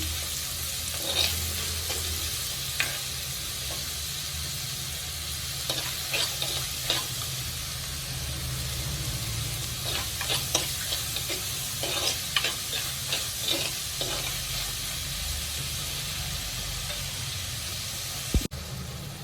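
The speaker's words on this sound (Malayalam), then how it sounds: "നല്ല ബ്രൗൺ കളറാവുന്നവരെ വഴട്ടിയെടുക്കണം" Onions and aromatics sauté in a pan of hot oil for a Kerala fish curry, a steady broad sizzle with repeated stirring scrapes throughout, close and moderately loud with no speech.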